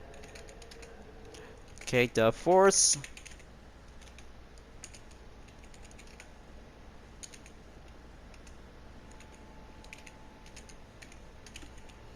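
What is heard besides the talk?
typing on a computer keyboard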